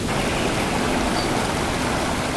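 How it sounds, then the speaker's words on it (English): Water in a stream rushes in a steady, loud, unbroken flow, with no voices. "The stream joins a river."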